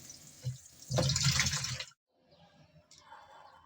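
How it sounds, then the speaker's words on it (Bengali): Peeled potatoes being washed in water for aloo dum, with close splashing and sloshing that cuts off abruptly, followed by quieter dripping and trickling; nobody talks. "আলুগুলো সব কোষা ছাড়িয়ে এখন আমি ধুয়ে নিচ্ছি"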